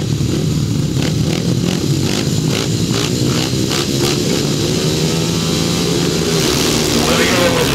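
Grasstrack race motorcycles at a 2007 British Masters qualifier roar steadily and loud, engines revving in pulsing waves as several bikes pass close, with continuous engine drone throughout.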